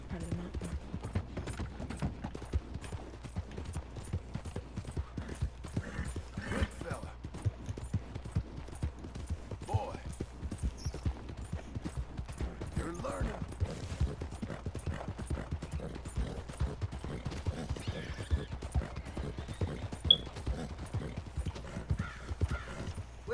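Horse hooves clip-clop steadily in the Red Dead video game, a continuous rhythmic run of soft hoofbeats over about twenty seconds, fairly quiet, with faint gear and tack sounds and no clear talk.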